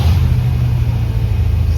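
A 1990 Dodge W250 Power Ram's engine holds a loud, steady high rev with a deep continuous rumble, close up and alone with no talk.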